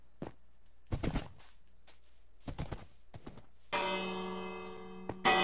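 A village bell in Minecraft rings after several sharp clacking hits, its bright sustained tone swelling in and lingering over the final seconds, with no talk.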